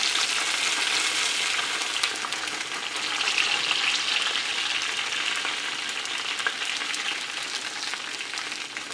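Chinese dumplings frying in hot oil in a pan, a steady broadband sizzle and crackle with small pops, continuous and close throughout.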